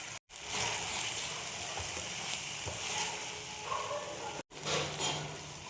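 Tomatoes frying in a pan with turmeric and salt, a steady close sizzle with occasional stirring scrapes, broken by two brief silent gaps.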